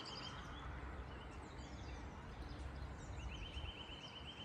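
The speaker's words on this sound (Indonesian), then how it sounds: "Teman-teman dengarkan suara burung." Birds call and chirp faintly in a tree-filled, forest-like spot near a spring, with repeated high twitters over a steady, noisy background; no talking.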